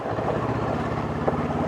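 A Honda CL500 motorcycle with a 180-degree-crank parallel-twin engine is ridden, giving a steady, loud, low rumbling drone mixed with wind buffeting, with no speech.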